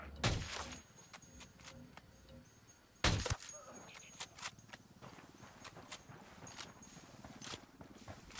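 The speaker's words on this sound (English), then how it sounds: "I'm opening fire on these shitheads." Two sharp, loud bursts of gunfire in Ghost Recon Wildlands, the second about three seconds after the first, followed by scattered softer impacts and cracks against quiet ambience.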